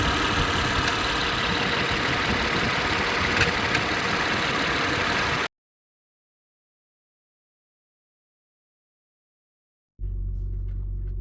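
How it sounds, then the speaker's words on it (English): A rebuilt 2008 Acura MDX engine running with a steady mechanical whir from the power steering pump, loud and close, broken by several seconds of silence before it resumes. "I hear the power steering pump making some noise."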